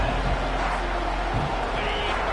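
A stadium crowd roars in an American football video game, a dense, loud, continuous wash of cheering noise filling the whole moment.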